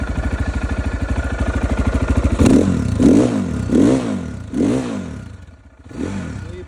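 A Geon Dakar GNS 300R twin-shaft motorcycle engine idles with a steady close-up rumble, then is revved in four or five sharp throttle blips that rise and fall, with no talking.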